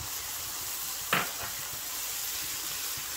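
Turmeric and other spices roast in a pan for chana dal palak, a steady close sizzle broken once by a quick scrape of a spoon stirring.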